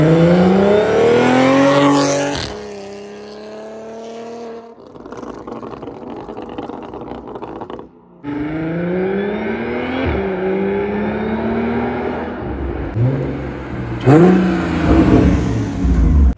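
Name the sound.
2023 Kia Stinger GT2 twin turbo car accelerating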